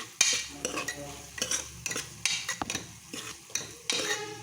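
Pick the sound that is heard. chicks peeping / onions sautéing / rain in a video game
onions sautéing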